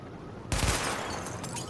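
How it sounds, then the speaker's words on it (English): Weapon fire at highlighted targets in Tom Clancy's The Division, a sudden loud burst after a quiet lead-in, then a decaying rattle with a few later shots. "Open fire at the highlighted targets."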